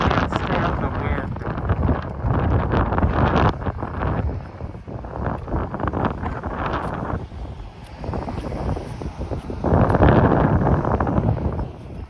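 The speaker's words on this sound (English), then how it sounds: "I just can't stand the wind." Heavy wind buffets the microphone of someone walking outdoors along Belfield Road in Etobicoke, Toronto, a loud rumbling roar in gusts with a muffled voice talking over it.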